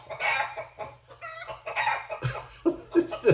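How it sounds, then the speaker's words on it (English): Chickens cluck and a rooster crows nearby, picked up through an EPOS Adapt 560 headset microphone; short bursts of clucking follow one after another across a few seconds. "you had chickens running around in the background"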